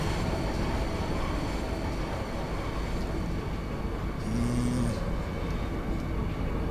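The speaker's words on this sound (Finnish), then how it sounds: "Train departing." A train in Final Fantasy VIII departing, a steady loud rumbling roar throughout with a brief two-tone chime or whistle partway through.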